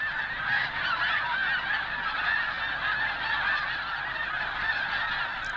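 A dense, continuous din of countless snow geese honking at once at Sand Lake in fall, a loud wall of overlapping calls with no single bird standing out.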